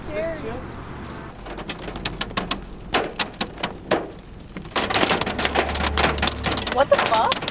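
Hail pelts down outdoors beside a freshly painted mural, sharp scattered impacts at first, then a dense rattling downpour of hits under occasional voices.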